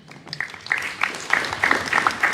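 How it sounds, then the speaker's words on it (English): Audience applause at a student developer club info session, a dense patter of clapping that builds and stays steady, with a few voices mixed in. "Can we have a round of applause for that?"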